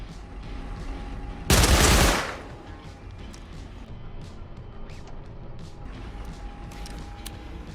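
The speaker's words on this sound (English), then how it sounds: "I was already hearing gunshots" Gunfire in the survival game Rust: one loud, dense burst of rapid shots lasting about half a second, then quieter game ambience with faint distant pops.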